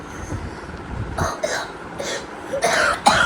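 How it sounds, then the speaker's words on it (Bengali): A child with a bad cough coughs and clears the throat in about five separate bursts over faint background noise, with no clear speech. "আমার ছেলেটার খুব কাশি হয়েছে, ভীষণ কাশি হয়েছে"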